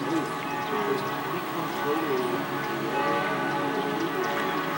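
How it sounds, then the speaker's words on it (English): Church bells of Salzburg ring for the Sunday 10 o'clock service, a continuous layered pealing from several towers heard moderately loud across the city, with faint talk in the background. "All the church bells ring, advertising for the 10 o'clock service."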